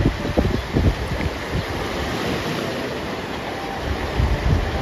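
Strong, cold wind buffets an outdoor spot along the Kōchi coast at sunset, a steady roar with low gusting thumps near the microphone and broad rushing noise throughout, no voices.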